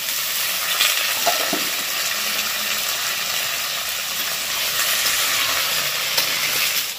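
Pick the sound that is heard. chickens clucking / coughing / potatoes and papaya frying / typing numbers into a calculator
potatoes and papaya frying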